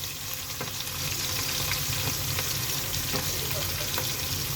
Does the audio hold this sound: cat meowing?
no